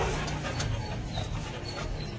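A Rottweiler puppy in a home kennel in Kolkata pants steadily close by, with faint whimpers over a constant background hiss.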